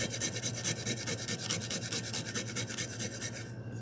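A stick rubs foil onto a thermal wine tumbler in fast, even back-and-forth strokes, a close, steady rasping scrub that continues alone without talk until it stops just before the end.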